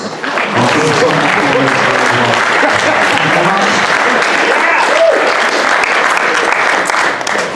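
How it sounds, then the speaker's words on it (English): A large audience applauds at a miniature painting award event, a loud, sustained round of clapping running nearly the whole time with faint voices mixed in. "Big massive round of applause"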